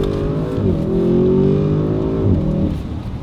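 An Audi RS6 wagon's engine pulls hard under acceleration, a loud, close, steady roar whose pitch climbs, dips briefly at a shift, then rises again, with no talk over it.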